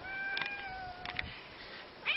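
A cat meows a few times in quick succession, clear and fairly close, with a last louder cry near the end over a low background hiss.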